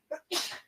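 A single person sneezes once, a brief sharp intake followed by a loud burst of breath, close and alone.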